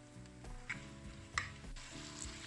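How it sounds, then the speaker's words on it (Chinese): Pumpkin and potato being stir-fried in a wok after salt, oyster sauce and soy sauce go in, with quiet sizzling and a few soft scrapes and clicks of the spatula, fairly faint and close. "翻炒均匀"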